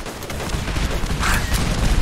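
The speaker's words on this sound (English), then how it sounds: "we're just gonna chuck some nades" Grenades going off in Fallout 4's Nuka World, a dense burst of rumbling blasts and crackling gunfire-like pops that swells toward the end, loud and continuous with no voices.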